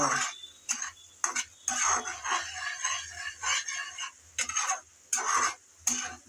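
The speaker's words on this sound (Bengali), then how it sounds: "ভিনেগার দিয়ে আবারও একটু নেড়ে চেড়ে ভালোভাবে মিশিয়ে নেব" Shrimp pickle stirred in a pan after vinegar goes in: bursts of scraping and clinking of a utensil against the pan, irregular and close, with a light sizzle underneath and short pauses between strokes.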